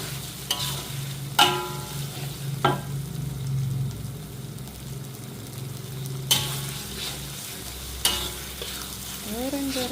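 Spices sizzle and fry in a pan for a sweet chicken curry, a steady close crackle broken by sharp metallic clinks of a utensil stirring against the pan.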